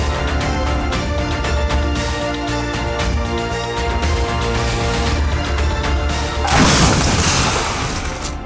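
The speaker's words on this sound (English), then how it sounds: "A light reverse turned into a big explosion." An explosion at a gas station after a car reverses into it: a sudden loud, broad blast and crashing burst breaks out late in the clip over a steady background of music.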